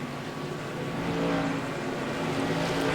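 An SK Modified race car engine in iRacing at Langley Speedway drones at high, steady revs with a slight rise in pitch, loud and continuous with no talking.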